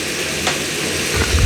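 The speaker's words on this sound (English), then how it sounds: "We're about 90 seconds in and we're finally getting that good sizzle." Steak frying in a pan, giving a soft, steady sizzle with faint crackles that grows a little louder toward the end; no voices.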